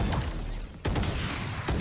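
Gunfire in the tactical shooter Valorant during a professional esports match, a dense burst of rapid shots with a brief pause and then more firing, loud and close over a noisy game mix.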